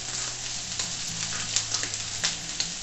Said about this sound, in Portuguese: a carne seca fritar juntamente com a cebola e o alho